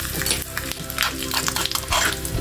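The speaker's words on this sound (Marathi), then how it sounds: "राईची फोडणी द्यायची आहे, त्यासाठी इथे तेल घातलं आहे." Mustard seeds sizzle and crackle steadily in hot oil with rapid popping, close up and fairly loud, with no voices.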